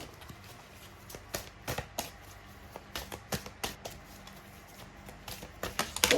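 Tarot cards are shuffled by hand in a quiet room, giving close, irregular bursts of soft slaps and riffles that grow busier and louder toward the end.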